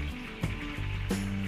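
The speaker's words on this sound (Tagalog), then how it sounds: "prito tayo ng Shanghai" Lumpia Shanghai fry in a pan with a soft, continuous sizzle, overlaid by intermittent tonal hums and a couple of brief clunks.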